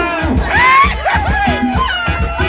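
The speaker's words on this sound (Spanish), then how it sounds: "A ver ese grito de la gente de San José de Gracia" A crowd shouts and cheers loudly in a rowdy burst of overlapping voices and whoops, close and energetic throughout.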